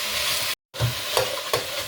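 Ginger and garlic frying and being stirred in a pan for devilled chicken, a steady close sizzle broken by a short silent gap, then scraping strokes from the stirring.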